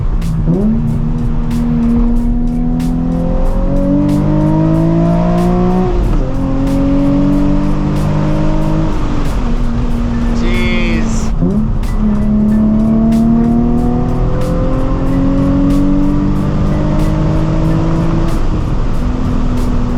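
A sports car engine revs and drones loudly throughout, pitch climbing and dropping through several gear shifts, with a brief exclamation partway through.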